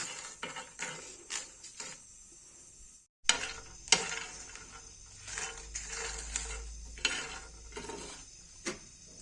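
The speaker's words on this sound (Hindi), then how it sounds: "इन्हें हमें लो हीट पे 2 से 3 मिनट तक रोस्ट करना है।" Dry scraping and stirring as chilies, almonds and cashews dry roast over low heat in a pan, with irregular clinks and rattles of ingredients being tossed, close and intermittent with a short silence.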